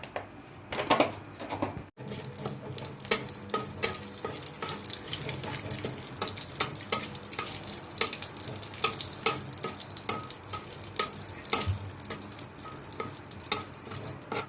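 Bay leaves and dried red chilies frying in hot oil for a cucumber masoor dal, a steady close crackling sizzle with scattered sharp pops and a short stir-like scrape near the start, no voice.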